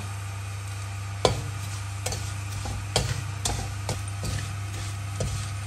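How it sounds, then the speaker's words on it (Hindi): Vermicelli lightly frying in ghee, with a quiet, steady sizzle under a constant low hum. Irregular light ticks and clinks of stirring come every second or so, close but fairly soft. "अब उसी घी में हम सेवैयां डाल देते हैं और सेवैयों को भी हल्का सा फ्राई करते हैं"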